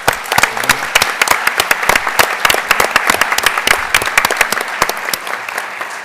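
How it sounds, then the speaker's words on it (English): A school board meeting audience applauds after a student showcase by a high school drumline: dense, steady clapping from a full room, loud and sustained throughout without a break. "Give a round of applause, please."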